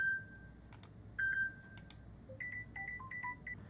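Short electronic alert tones on a smartphone being previewed from its ringtone settings, a quick series of clear beeps and chirps in shifting pitches, close and fairly quiet, with no voices.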